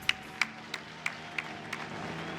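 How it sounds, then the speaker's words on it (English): A handful of scattered, isolated claps ring out one after another at an outdoor car debut for a BMW E46, sparse and fairly distinct rather than a full crowd ovation. "Hey, round of applause."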